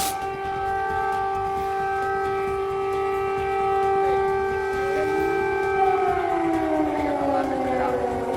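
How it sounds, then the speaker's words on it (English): Several air raid sirens in Ukraine during a Russian attack wail loudly with a steady sustained tone, then their pitch slides downward as they wind down, overlapping. "That's an air raid siren. Several of them going off here"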